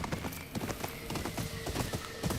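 Horse hooves in the video game Ghost of Yotei: a brisk, rhythmic clip-clop of a ridden horse, close and fairly loud, with faint game sounds in the background.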